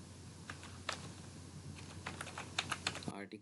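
Typing on a computer keyboard, including presses of the space bar and enter key while writing article gig tags, soft clicky keystrokes in irregular bursts, quiet and close, ending with a louder key press.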